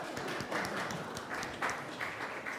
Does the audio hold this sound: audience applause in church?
yes